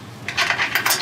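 A metal washer and bolt are slipped through a hole on a Chevy C50 truck part, making a quick cluster of light, bright metallic clinks and taps close by, over about a second.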